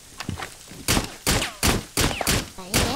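Rainbow Six Siege gunfire shot through a wall: about six sharp, loud single shots spaced roughly a third of a second apart, each with a short ringing tail, over a quiet background.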